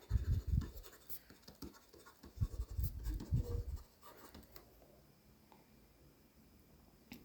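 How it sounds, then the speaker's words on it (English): A pen scratching across paper while working an A Level accounting problem, with close, steady strokes for several seconds before it fades to quiet background hiss. "Let's write it down."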